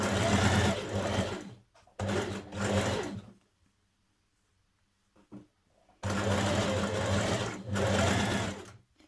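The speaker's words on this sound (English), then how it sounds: "just a couple of millimetres away from this seam here, you're stitching onto the binding." A sewing machine stitches binding tape onto a dress seam in loud close bursts, running in short spurts, stopping for a few quiet seconds, then resuming for a longer run.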